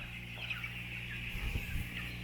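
Chickens clucking softly amid steady farm background hum, with a brief cluster of louder clucks and scratching near the end.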